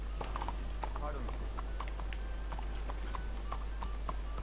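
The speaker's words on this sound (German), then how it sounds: "Das war mein Pferd." Horse hooves clip-clop steadily in Red Dead Redemption 2, a continuous rhythmic trot of close, moderately loud footfalls over a noisy game soundscape, with talk mixed in.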